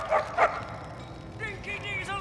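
A dog in the Mad Max video game gives two short yips near the start, followed by someone speaking over a quiet game ambience.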